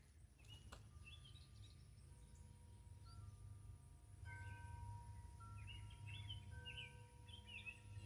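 A bird chirps outdoors in a few faint, high, short calls scattered over a steady low background hum, with no talking.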